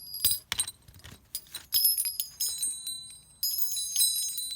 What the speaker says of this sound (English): found these little bells